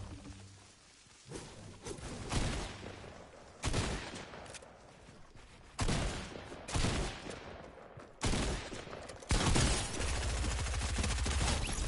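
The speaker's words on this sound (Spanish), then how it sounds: "Sé que he disparado." Fortnite gunfire during a Battle Royale match, with repeated loud bursts of shots spread across the scene amid game noise, no talk.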